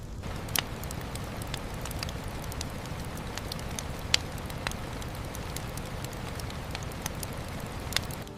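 Monsoon rain falls at night in a jungle, a steady dense hiss and patter with scattered sharper drips and taps, close and continuous, no voices.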